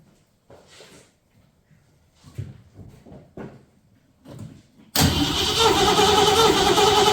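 A 1966 Ford Mustang engine being cranked during a compression test. Faint scattered knocks and shuffles come first, then a loud, continuous mechanical churning bursts in and holds to the end.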